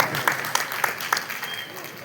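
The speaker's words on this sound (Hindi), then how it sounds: "जरा जोरदार तालियां" A crowd claps at a musical party honouring city dignitaries, with a few distinct loud claps standing out over a busy background while a voice talks through it.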